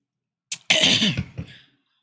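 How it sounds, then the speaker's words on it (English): A short cough followed by a drawn-out, raspy throat clearing with a few rough catches, close and fairly loud, then quiet. "I'm constantly clearing my throat, coughing."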